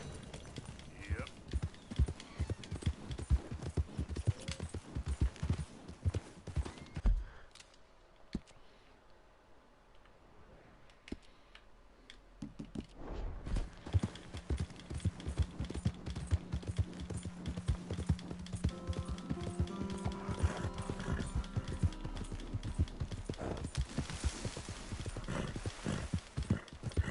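Steady clip-clop of horse hooves at a trot in Red Dead Redemption 2, a brief quieter gap midway, then the hoofbeats resume alongside a whinny and game background sounds.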